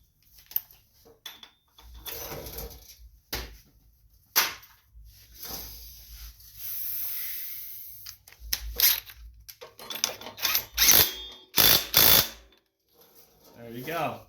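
A bolt being tightened on a Craftsman LT2000 riding mower from 2012 during a drive belt change, heard as sharp metallic clicks and scraping knocks scattered irregularly, close and fairly loud, with a brief rushing hiss in the middle.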